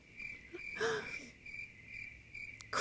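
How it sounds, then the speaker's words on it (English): Crickets chirp steadily as a comedy-show sound gag, a continuous high trill pulsing in short regular bursts, moderately close, with a brief breathy noise near the start and no talking. "Crew, shut those crickets up."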